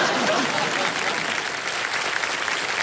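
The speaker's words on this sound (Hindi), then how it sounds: "देखा आपने कितनी ताली बजी है आपके लिए" Studio audience of a televised quiz show giving sustained applause, a thick continuous wash of many clapping hands filling the room, with speech faintly mixed in.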